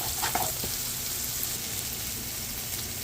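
Tomato paste frying in a pan for sausage and seafood paella gives a soft, steady sizzle with a few light early clicks, fairly quiet and unbroken.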